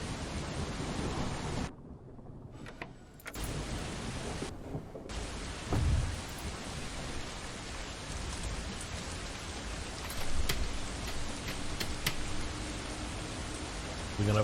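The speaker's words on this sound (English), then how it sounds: "We're gonna have a nice thunderstorm." Steady rain and rumbling thunder fill a thunderstorm in the Euro Truck Simulator 2 truck-driving game, a continuous wash of noise with occasional louder swells and brief dropouts.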